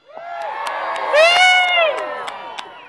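A crowd at a Utah National Guard send-off event in Vernal screams and cheers, a swelling mix of shrieks and whoops that peaks midway, with a few sharp claps.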